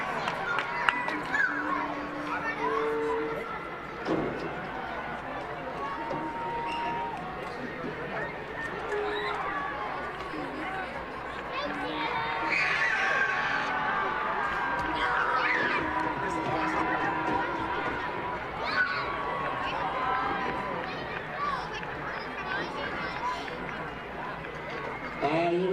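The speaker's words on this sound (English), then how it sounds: "Give them a round of applause as they come to the 50-yard line." A high school football stadium crowd claps and murmurs steadily as the homecoming court walks out to the 50-yard line, a broad wash of applause and chatter lasting throughout.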